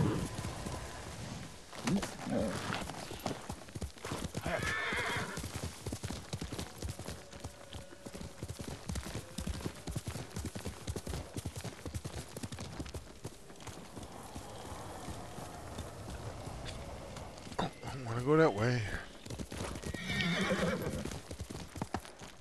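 Horse galloping with clip-clop hoofbeats and repeated whinnies in the samurai video game Ghost of Tsushima, a loud neigh near the end, with game sounds and some voice underneath throughout.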